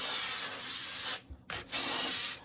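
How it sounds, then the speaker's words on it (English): Baking spray with flour hisses onto a baking pan in two long bursts separated by a brief pause with a short puff, close and loud with a bright airy spray sound. "Spray this here really good."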